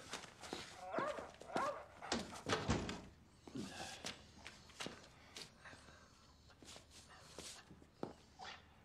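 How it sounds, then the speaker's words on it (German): A dog in an indoor room gives a series of barks and yelps, loud and close at first and then sparser, with footsteps, knocking and a few voices mixed in. "dieser verfluchte Köter"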